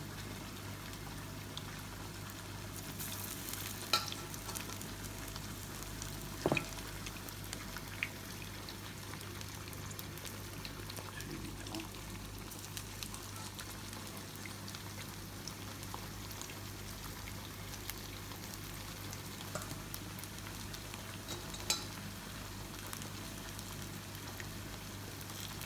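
Spinach kofta balls frying in a pan for rogan josh, a faint, continuous sizzle over a low steady hum, with a few soft pops and ticks.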